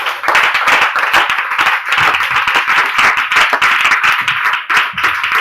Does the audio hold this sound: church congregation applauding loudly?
yes